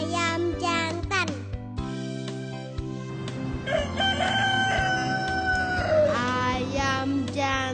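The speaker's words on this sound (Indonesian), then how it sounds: "Ayam jantan." A rooster crows loudly nearby in a long drawn-out call after some earlier clucks and chatter from other fowl, over steady background music.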